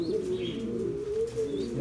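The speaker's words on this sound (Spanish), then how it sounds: "Mira qué belleza de palomas." A red Büchi pigeon gives a low, continuous throaty cooing close by, a warbling murmur that rises and falls without pause, with faint higher chirps from other birds in the background.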